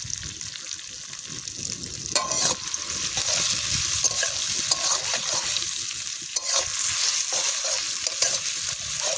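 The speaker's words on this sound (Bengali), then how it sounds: "টমেটো কুচিয়ে দিয়ে দেবো," Chopped onion and tomato fry in fish oil in a village kitchen, producing a continuous close hiss and sizzle broken by intermittent stirring scrapes and clatters; no one speaks.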